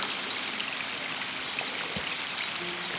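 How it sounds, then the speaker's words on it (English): A steady mountain drizzle patters softly and evenly, a continuous hiss of light rain with faint droplets and no voices. "it was a bit of a steady drizzle for the majority of the day"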